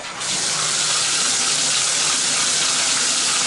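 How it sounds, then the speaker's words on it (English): Water gushes hard and steadily from a kitchen tap into a sink, a loud, continuous broadband rush that starts abruptly and fills the whole clip with no talk. "I'm gonna go ahead and get the water running."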